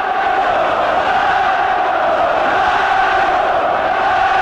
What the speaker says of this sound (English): Crowd trying to urge Benn on